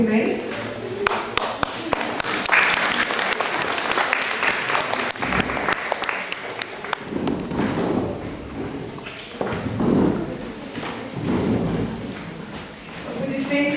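Steady applause for Krisi, a 13-year-old girl who won a drawing contest, at a learning centre's birthday celebration. Dense clapping runs throughout, with people talking over it.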